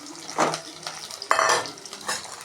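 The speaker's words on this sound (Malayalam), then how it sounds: "ചുവന്നുള്ളി പച്ചമുളക് ഇഞ്ചി വെളുത്തുള്ളി എന്നിവ വഴറ്റാനായിട്ട് ഇടുകയാണ്" Shallots, green chili, ginger and garlic being stirred in a pan for a sardine curry: a few scraping strokes of a spoon against metal over a soft, low sizzle, close and moderately loud.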